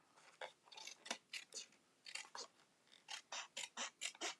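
Scissors snipping through a thin flexible magnet sheet, a steady run of crisp close-up cuts in uneven bursts, quiet and alone without talking.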